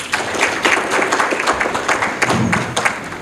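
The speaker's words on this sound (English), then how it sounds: "Please give him a round of applause." Audience applause at a business thought leadership program after a speaker's talk, a full room clapping steadily with sharp individual claps standing out, loud and sustained throughout.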